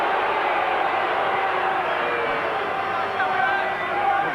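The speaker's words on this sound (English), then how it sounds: "The crowd roars every time the young man gets the ball." Dense, continuous roar of a rugby league crowd at a 1997 Canberra Raiders versus Perth Western Reds match, loud and sustained, swelling slightly toward the end.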